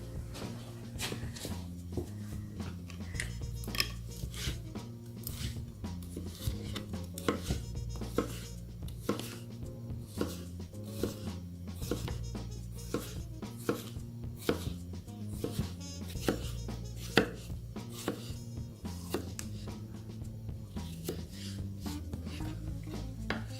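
Steady rhythmic knife chops through peeled cucumber on a chopping board, close and quick, continuing for a long stretch with occasional sharper knocks, over a low background hum.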